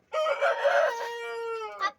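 A rooster crows once, loud and close, a long drawn-out call that trails off, with a short clucking note at the end.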